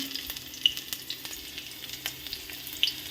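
Chopped onions sizzle in hot mustard oil with a dried red chilli, a steady close frying hiss with occasional stirring clicks and pops, no voices.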